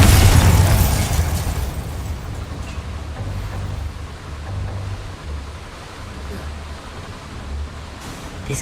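A Bombarda blasting spell from a Harry Potter video game set in a mine goes off with a loud broadband boom at the start, then decays into a long low rumble that lingers and slowly fades.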